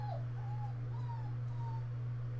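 A dog whimpering at a door, several thin, high whines in a row over a steady low electrical hum, with no one speaking.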